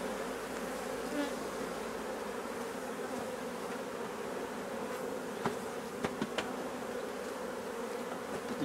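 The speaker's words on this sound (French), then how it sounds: "Beaucoup d'abeilles." Many honeybees buzzing around an open hive, a dense steady hum close by with a few faint clicks and knocks of handling.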